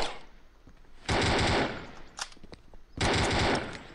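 Automatic gunfire from Project Breach, fired while moving, comes in two loud sustained bursts of rapid shots separated by a brief single burst and quieter scattered pops.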